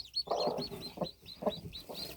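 Soft, quiet clucking from a hen with newborn chicks, several short rhythmic clucks close by with faint chick chirping in between.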